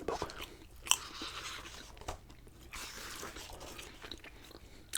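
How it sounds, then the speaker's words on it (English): Soft, close chewing of a piece of white chewing gum, with moist crunchy bites and occasional clicks repeating irregularly in a quiet room, no talking over it. "pop that in my mouth and start chewing"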